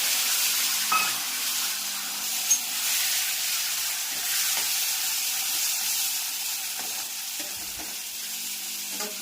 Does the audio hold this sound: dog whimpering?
no